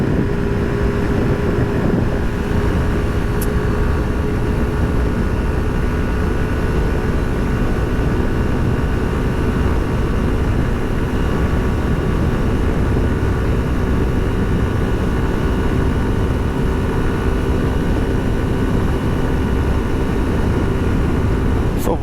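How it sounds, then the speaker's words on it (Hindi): Suzuki Gixxer 150 motorcycle at top speed in fifth gear, a loud, steady engine drone buried in heavy wind roar, continuous throughout with no clear speech. "तो 111-12 समथिंगिश बाइक जा रही होती है आपकी फिफ्थ गियर के अंदर"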